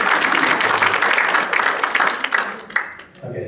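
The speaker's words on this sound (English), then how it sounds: "One word I want to say is applause again for Monaji." Audience applause at a health and well-being awareness day event, many hands clapping in a dense burst that thins out and fades toward the end.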